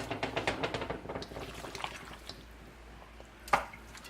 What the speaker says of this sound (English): So I can just pour it all